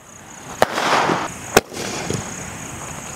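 A Sivakasi aerial spinning firework: two sharp cracking bursts ring out a second apart, with a crackling, hissing spray between them and a lighter pop afterward, heard outdoors at moderate distance.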